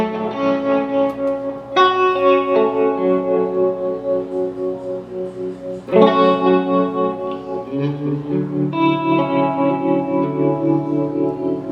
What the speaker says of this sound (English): Kind of an old school tube trem.